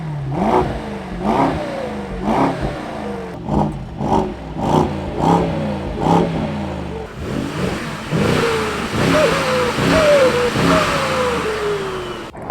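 Mercedes SL AMG engine revving repeatedly in sharp bursts, a roughly rhythmic series of loud blips followed by a longer sustained rev and descending pitch, with no talking.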